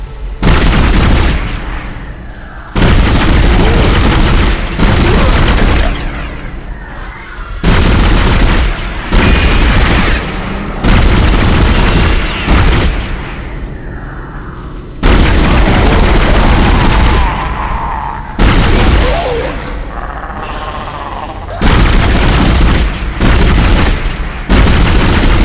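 Loud, dense gunfire and booming blasts from the sci-fi survival horror game Dead Space come in repeated heavy bursts broken by brief gaps, with no voices present.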